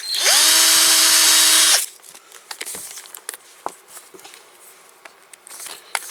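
A power drill whines loudly for about two seconds while removing rust and dirt from old die-cast Dinky toy shovel dozer parts, then stops, leaving quiet handling clicks and small rattles of metal pieces.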